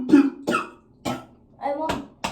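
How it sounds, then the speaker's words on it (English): A person coughs in several harsh, wet bursts, about five spaced across a couple of seconds, close and fairly loud, with a strained voiced quality. "He's coughing up blood."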